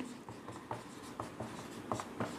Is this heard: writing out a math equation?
yes